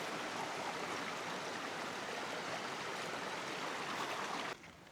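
Steady broadband rush of a river flowing in Remutaka Forest Park, New Zealand, close and continuous, with no voices, dropping off abruptly just before the end.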